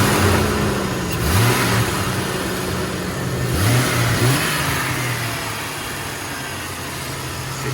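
A 1999 Jeep Cherokee engine is revved a few times from a high idle, each throttle blip rising and falling in pitch over a steady mid-range engine drone, close and fairly loud.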